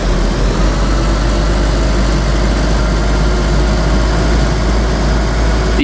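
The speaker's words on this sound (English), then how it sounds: "The engine sounds and the door sounds seem to be the original Olga 24 sounds" A Land Rover idles in the video game DayZ, a loud, steady low-pitched engine drone with a constant heavy hum, continuous and without any speech.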